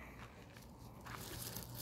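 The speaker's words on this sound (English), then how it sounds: "he's chewing on that little bone thing" An American bully dog gnaws on a small bone outdoors in a yard, with faint, close crunching and biting sounds that continue quietly and steadily.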